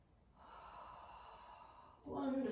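A breath during cobra pose in a heart chakra yoga session: a steady soft airy exhale lasting nearly two seconds, then a louder, sharper inhale at the end, close and alone.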